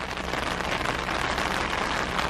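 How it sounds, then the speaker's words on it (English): Heavy rain falls in Costa Rica, a dense, steady hiss of drops beating on the surfaces nearby, loud and even throughout with no voices. "It rains hard."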